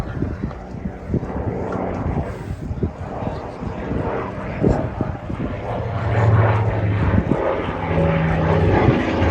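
A WWII propeller aircraft performing a slow aileron roll at an air show in Reading, Pennsylvania, its engine droning steadily overhead with swelling and fading pitch, while a voice comments over it and wind buffets the microphone.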